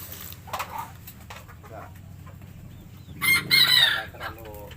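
A small serama rooster crows loudly and shrilly after a few soft clucks, close by, with a low steady hum underneath.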